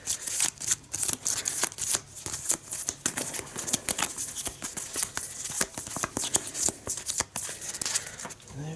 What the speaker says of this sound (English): And the top two cards from North Side here, and shuffle them.